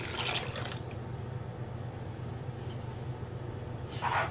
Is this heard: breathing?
no